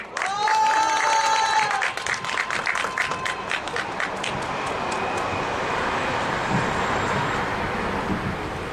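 Crowd applause at an outdoor Korean labour union rally, sustained and fairly loud from a large gathering, with brief voices and tonal sounds early on, then steady dense clapping that carries on throughout.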